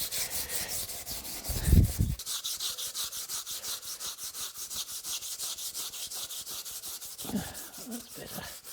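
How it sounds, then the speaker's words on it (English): Steel wool rubs set Evapo-Rust gel off a rusty metal surface in fast, even, scratchy strokes, close and steady, with brief low voice sounds near the start and end. "This gel has set a bit on here, so I'm just going to use this little bit of steel wool to"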